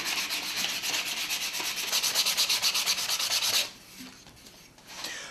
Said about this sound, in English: I got some 120 sandpaper and I'm going to sand it